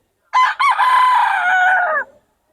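A young rooster (stag) lets out one loud, close crow that rises after a brief catch and holds steady for about a second and a half before cutting off, heard alone.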